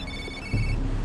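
A telephone rings indoors with a steady electronic tone, followed halfway through by a louder low-pitched rumble or thump that continues under the ringing.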